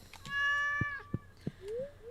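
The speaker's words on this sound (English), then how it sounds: "I've stroked the cat rather than kicked the cat" A cat in the video game Stardew Valley, stroked by the player, lets out a clear, close, drawn-out meow followed by a second rising meow, with a few soft taps between.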